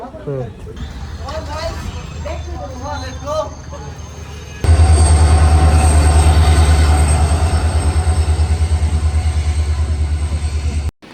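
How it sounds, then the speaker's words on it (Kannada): A train pulls in and runs along the rails, a loud, steady rumble of wheels with a rhythmic clatter and a high squeal, beginning abruptly after a stretch of talk nearby. "ನಮ್ದು ಟ್ರೈನ್ ಕೂಡ ಬಂದಿದೆ"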